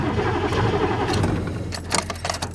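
An old 1982 GMC 6.2 diesel cold-starts on a roughly 25-degree morning, cranking and catching into a rough, clattery idle, heard up close and fairly loud throughout.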